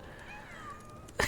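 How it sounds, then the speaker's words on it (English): A cat meows in the video game Sherlock Holmes: The Awakened, giving one drawn-out, fairly faint wavering cry, followed by a brief louder burst at the very end. "Oh, there's the kitty cat!"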